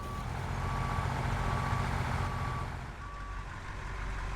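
Truck in the SnowRunner video game reversing through mud, its backup alarm beeping in a regular repeating pattern over a steady loud engine rumble.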